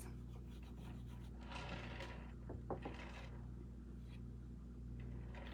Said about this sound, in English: when you just rub gently over top, it just starts to bring out the beautiful detail of the frame